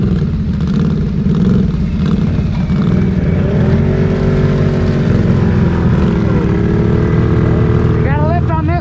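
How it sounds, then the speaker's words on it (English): An off-road vehicle engine runs steadily close by during a winching recovery on a rough trail, its drone rising and shifting as the vehicle drives ahead, with voices talking over it. "Drive ahead, Joe."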